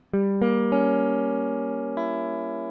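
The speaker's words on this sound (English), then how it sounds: "we're starting with the melody chords, which sound like this, right?" Several guitar chords strummed in quick succession, each ringing out cleanly and sustaining, with a final chord let ring until it fades.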